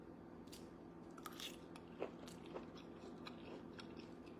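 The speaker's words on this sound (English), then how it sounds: "I'm going to take my first bite." Someone bites into a pasty, giving quiet, close crunches and a few soft chewing clicks over a faint steady hum.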